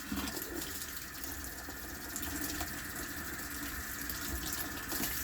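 Warm tap water runs steadily into a sink, a constant hissing stream with no pauses.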